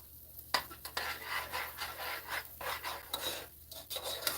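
Chicken quesadilla filling topped with cheese is stirred in a pan, giving soft rasping, scraping strokes over a faint sizzle, fairly quiet and close.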